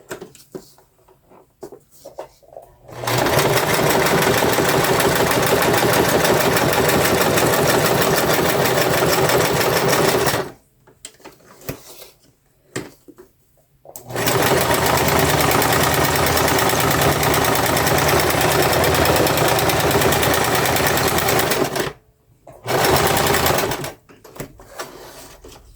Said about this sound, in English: I'm going to stitch this.